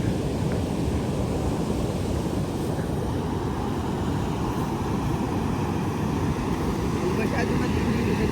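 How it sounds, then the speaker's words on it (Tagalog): Ocean waves at Dingalan wash in as a steady, heavy low rumble of surf, loud and continuous, with a few voices briefly audible over it. "Pinabutan na ng alon."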